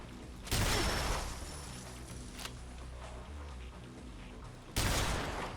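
A 4-bore shotgun called T6M's 4-bore firing in Fallout 4, with two loud, booming blasts spaced a few seconds apart, each followed by a rolling tail.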